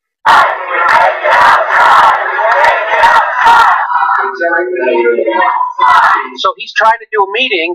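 A crowd outside a town hall meeting chants "Take it outside" in loud rhythmic bursts, followed by someone talking over the fading noise.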